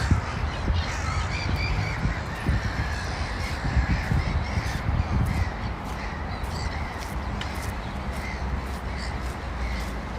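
Seagulls and crows calling along the Fontana River embankment in St Petersburg, harsh repeated cries over a steady outdoor city background.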